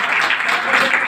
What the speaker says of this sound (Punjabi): ਇਹ ਉਹ ਤਾੜੀ ਲਾਈ ਭਲਾ।